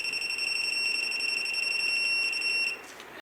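An electronic torque wrench on an Austin Mini engine's main bearing caps, tightened to 60 foot-pounds, gives one steady, loud, high-pitched beep for nearly three seconds before cutting off abruptly.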